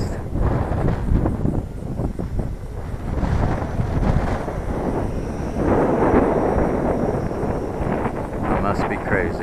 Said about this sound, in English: There's a big gust.